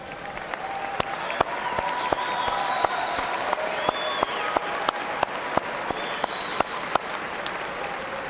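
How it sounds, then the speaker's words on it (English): Sustained applause from a large audience at a college commencement ceremony for the College of Justice & Safety, a steady dense clatter of clapping with occasional sharper claps standing out over several seconds. "showing your appreciations for these very important people in your lives with a generous round of applause"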